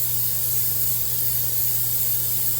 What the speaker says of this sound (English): on top of the butter, I'm going to spray it lightly